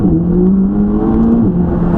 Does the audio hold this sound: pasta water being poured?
no